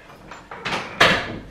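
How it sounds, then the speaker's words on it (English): A door swings shut indoors: a few soft rustling knocks build up to one firm close, near and brief. "Hang on, I gotta close my door."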